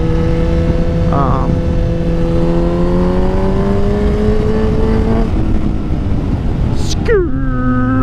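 Steady motorcycle engine drone while riding, with pitch rising and falling as the rider shifts and accelerates, wind noise throughout and a sharp rev near the end; someone talks over it.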